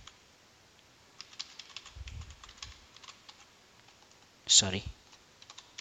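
Admin password typed on a computer keyboard while logging into Windows Admin Center on Windows Server 2019: a quiet, irregular run of soft key clicks with a brief spoken word partway through.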